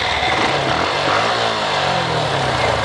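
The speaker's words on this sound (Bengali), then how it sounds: "দেখেন বাইক স্টার্ট হয়েছে" A motorcycle engine fitted with a Tasslock Pro keyless voice-command starter runs after starting, a close, steady idling putter with a slight rise and fall in pitch, heard alone.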